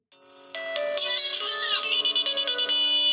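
A bright electronic Windows Phone ringtone on a Lumia 1020, a rising cluster of synthetic tones that swells in quickly and pulses loudly for about three seconds.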